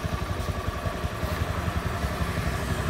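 A motorcycle engine idles steadily with a low, even rumble and light mechanical clatter, close and continuous, while a faulty starter switch is being tested on the running bike.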